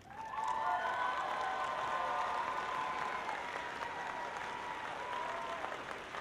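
A robotics competition team's supporters applaud and cheer during alliance selections at an indoor district event, a broad, sustained wash of clapping and crowd noise lasting several seconds in a large hall.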